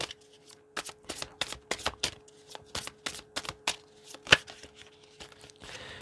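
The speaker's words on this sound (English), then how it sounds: "Let's get one more from this Demon Tarot deck" A Demon Tarot card deck being shuffled, heard as a rapid series of crisp, close card snaps and riffles with brief pauses, alone with no voices.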